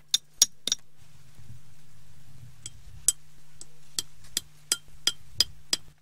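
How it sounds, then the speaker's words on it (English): Sharp stone-on-stone strikes ring out one at a time at an irregular pace as stone flakes are knapped with hammer and anvil, crisp and close, over a faint steady hum. "using both the direct percussion method as well as the hammer and anvil technique"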